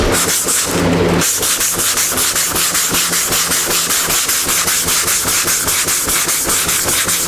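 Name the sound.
block sanding primer by hand with 80 grit sandpaper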